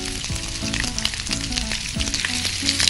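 Capsicum and cabbage fry in a hot pan with a loud, steady sizzle up close, with faint background tones running under the crackle and no voices.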